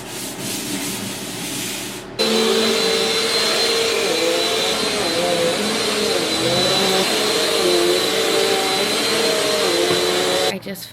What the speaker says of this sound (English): And then I'm gonna do some vacuuming, and then I'm pretty much done.